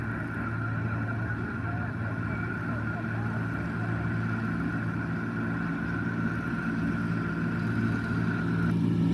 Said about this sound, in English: I've got a big string of cars here that are noisy.